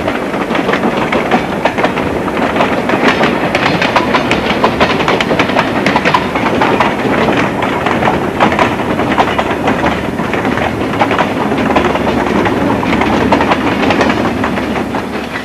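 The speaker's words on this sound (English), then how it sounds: "allow the passage of a long, old northbound freight train" A long, old northbound freight train rolls past near the Williamson River line, a steady loud rumble with continuous clickety-clack of wheels and some hiss, filling the whole stretch without any voices.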